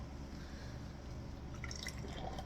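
Golden Finch New England style IPA pours from a can into a glass, a steady trickle and gurgle of liquid filling it over a low background hum.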